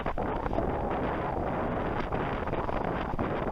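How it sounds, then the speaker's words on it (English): Strong wind buffets the microphone while sailing on a lake as a squall builds, a steady loud roar with gusty fluctuations throughout and no voices. "So the wind continues to build"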